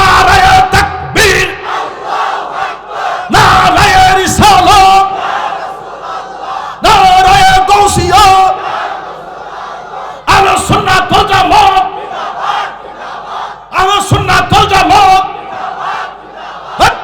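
Large crowd at an outdoor religious sermon (waz) chanting a slogan in loud, rhythmic bursts of massed voices, repeated call-and-response waves separated by short pauses.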